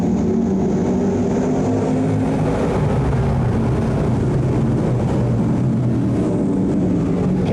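Race cars roar steadily on a speedway as the field accelerates back to green after a restart, a dense, loud engine drone with no break.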